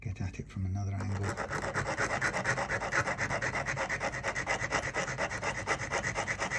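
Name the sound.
sandpaper sanding guitar fret during refret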